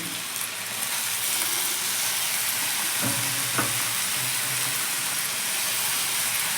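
Beet greens fry with garlic, cumin and green chili in a loud, continuous hissing sizzle that stays dense and steady, broken around the middle by a couple of brief clinks or scrapes.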